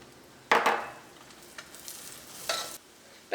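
Cashews and raisins frying in a pan: brief hissing sizzle bursts as the spoon stirs them, two louder scrapes and a few lighter clicks over a quiet background.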